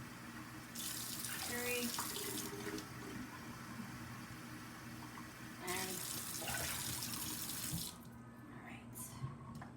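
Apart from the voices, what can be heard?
tap water running while rinsing rice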